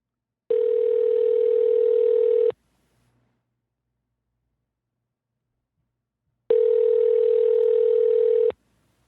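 A telephone call rings out while waiting for someone to pick up: two long ringback tones about two seconds each, separated by a four-second silence, clear and alone with no talk.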